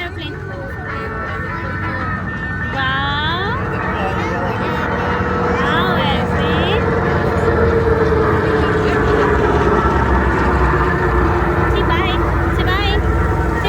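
Propeller trainer aircraft drone past overhead at an Anzac Day air force display at West Sale Airport, the engine hum swelling and steady, with a crowd murmuring and people talking throughout.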